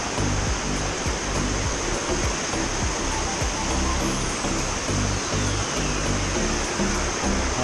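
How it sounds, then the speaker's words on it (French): A waterfall in Bach Ma National Park, Vietnam roars in a constant, dense rush, heard from above the falls, with faint voices barely rising through the steady wash of water. "pour une fois, on est au-dessus de la cascade"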